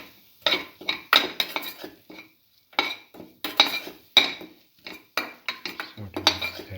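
Chicken liver being stirred with salt and curry leaves in a pan, a utensil clinking and scraping against the metal in quick irregular bursts, close and moderately loud, with short pauses between strokes.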